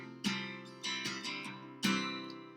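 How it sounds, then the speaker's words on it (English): Guitar chords strummed on a guitar, four separate ringing strums with bright attacks and sustained decays, played solo with no voices. "chords are essentially what most guitar players play"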